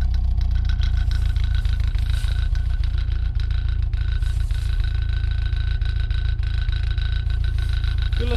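Saab 900 engine idling after starting, a steady low rumble with faint uneven pulsing, close and continuous throughout with no voices.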